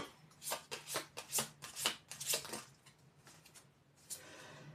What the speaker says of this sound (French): Une carte retournée, s'il vous plaît.